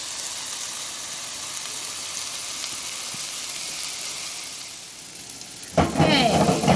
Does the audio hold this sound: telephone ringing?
no